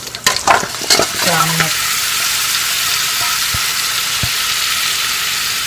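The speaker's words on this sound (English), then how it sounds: "And I'm going to fry this down" Blue crab stir-fried in a hot pan with onions for a coconut milk curry, a steady loud sizzle after a few stirring scrapes at the start, with a brief voice over the opening.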